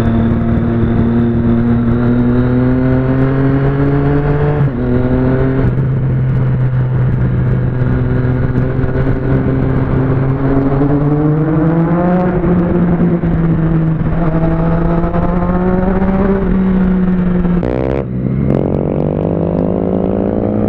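Turbocharged Honda CG motorcycle engine revving hard and continuously, loud and close, with rising and falling pitch sweeps and a sudden drop near the end.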